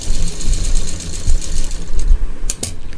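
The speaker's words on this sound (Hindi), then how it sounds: "लास्ट में भी डबल सिलाई दे देंगे" Close, rapid mechanical chatter from a sewing machine double-stitching fabric for a potli bag, running continuously with a few brief knocks and no talking.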